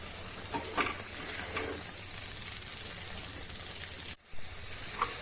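Tomato thokku with chilli powder sautéing in a pan over a medium flame, a soft steady sizzle with occasional stirring scrapes and one brief dip in the sound partway through.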